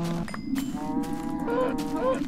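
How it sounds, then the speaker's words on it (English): Cows mooing in Minecraft 1.2.5, a loud, close, drawn-out bovine moo with a second moo overlapping it, heard in a game world on its own without speech. "Cows everywhere."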